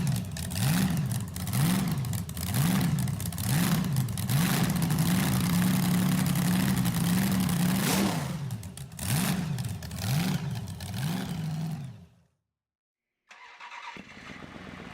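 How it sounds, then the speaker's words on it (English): Blown and injected 392 Hemi V8, loud and close, revving in repeated rhythmic surges with a lumpy idle between, then cutting off abruptly into silence before a quieter sound resumes. "the blown and injected 392 Hemi embodies raw power and vintage engineering"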